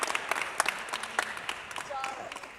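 An audience applauds at a Filipino cultural celebration, a moderate crowd clapping with distinct individual claps audible in a continuous, fairly even patter, with a voice briefly heard over it.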